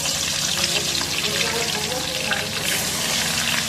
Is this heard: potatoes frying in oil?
yes